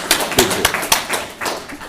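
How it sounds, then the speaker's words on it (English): Audience applause for planetary scientist Lucy McFadden at a lecture, a two-second burst of scattered claps that swells and eases in an indoor hall. "Let's give her a round of applause"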